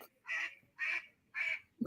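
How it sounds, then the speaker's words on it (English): Ducks quack three times in an even rhythm, each call harsh and nasal, clear and fairly close, with short silences between them and no voices over them. "Who got all them goddamn ducks?"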